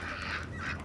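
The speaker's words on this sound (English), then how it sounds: "So we're just walking through some ducks." Ducks of mixed breeds at a city farm, including Indian runners, let out one short, close, honking call that holds briefly, rises a little and then fades.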